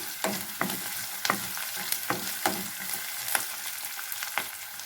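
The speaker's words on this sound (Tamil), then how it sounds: "ஒரு மூணு பச்சை மிளகா வெங்காயத்தை நல்லா வணக்கிக்கலாங்க" Onion and green chillies sautéing in a hot pan, a continuous sizzle broken by regular scraping stirs of a spatula roughly every half second, close and clear with no talking.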